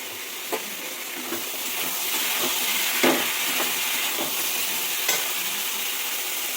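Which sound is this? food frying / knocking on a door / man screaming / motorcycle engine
food frying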